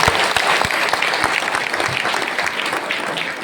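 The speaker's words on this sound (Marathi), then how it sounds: "टाळी वाजवली." A crowd at a devotional kirtan gathering claps loudly and continuously, dense overlapping applause with a few sharper individual claps standing out, no talk over it.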